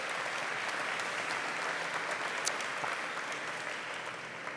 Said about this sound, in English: Round of applause for our questioner.